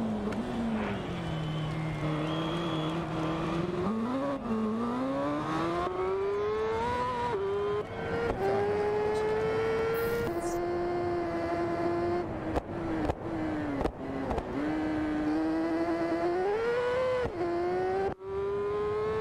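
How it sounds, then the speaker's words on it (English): A motorcycle engine in the video game TT Isle of Man drones continuously with rising and falling pitch, sputtering and revving as it races, loud and steady throughout. "Why do they have all the sputtering? You hear that sputtering?"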